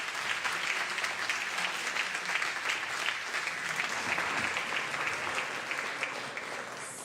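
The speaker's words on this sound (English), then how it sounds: "I would ask for another round of applause for these tough and feisty," Dense, sustained applause fills a state senate chamber during a floor session marking Women's Equality Day, many hands clapping together at an even level throughout.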